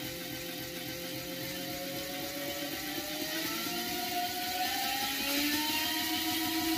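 A brushless DC motor spinning at high speed on a tabletop, giving a steady close whir with rising tonal whine that climbs in pitch and grows slightly louder toward the end.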